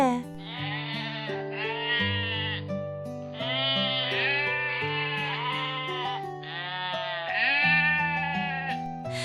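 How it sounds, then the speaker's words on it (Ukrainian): Cartoon sheep bleating in repeated drawn-out, wavering calls over a steady musical backing, with no talking. "А ось вівця. Вона каже Бе."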